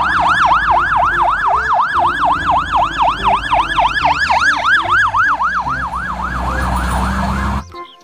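A toy fire engine's wailing electronic siren sweeps up and down in rapid, regular cycles, loud and close, then cuts off abruptly at the end.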